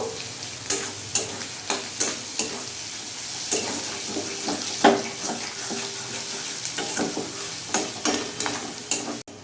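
Onions frying in a kadai for spicy kadai chicken, a steady close sizzle broken by repeated scraping stirs of a spatula across the metal pan, with no talking.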